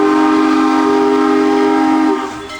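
A train whistle blows one long, loud, steady note close by, holding for about two seconds before it cuts off and fades, heard alone without voices.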